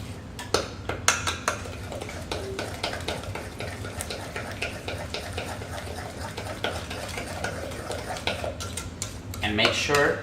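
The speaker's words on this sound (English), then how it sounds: "the 2 eggs, again, mix all of this." Eggs are mixed into oatmeal raisin cookie dough in a bowl, a run of close, rapid clinks and taps of a utensil against the bowl with a soft scraping bed, and a voice speaks briefly near the end.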